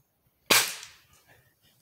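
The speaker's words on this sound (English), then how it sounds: "it's just a regular pellet gun" A Gamo Whisper pellet gun fires a single sharp crack outdoors along a creekside, close and loud, followed by a short fading tail and quiet surroundings.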